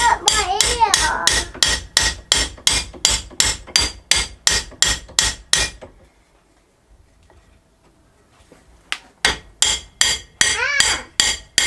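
A hammer bangs rapidly and loudly on an old G clamp under restoration, a long run of sharp metallic strikes, then a pause of near silence, then another quick burst of blows.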